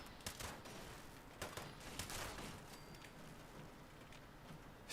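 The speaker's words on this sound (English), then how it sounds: "that gunfire is not coming from our location." Rapid bursts of gunfire from the video game Fallout 76 crackle at a distance, quiet and muffled, with scattered sharp shots over a steady hiss.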